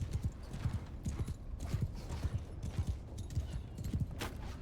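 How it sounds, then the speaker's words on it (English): Rhythmic horse hooves clip-clopping at a steady trot in the Mount & Blade 2 Bannerlord video game, a ridden horse moving close and clear with no talk over it. "I could ride my horse through the gates"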